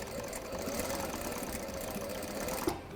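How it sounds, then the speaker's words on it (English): A sewing machine runs steadily, stitching close to the edge of a frilled scatter cushion with a continuous mechanical whir, close up and alone, ending with a brief click. "And then you just want to sew quite close to the edge."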